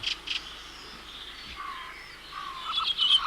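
Thin, high bird calls of a redwing thrush, a dark thrush with a streaked breast and a pale stripe over the eye. The calls come faint and scattered over a quiet outdoor background, with a few louder chirps near the end.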